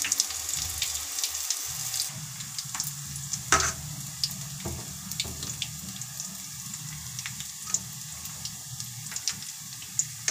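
Cauliflower pakoras fry in oil in a kadhai over lowered heat, giving a steady close bubbling sizzle with occasional clinks and stirring scrapes.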